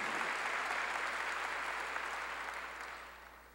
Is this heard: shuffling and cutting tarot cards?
no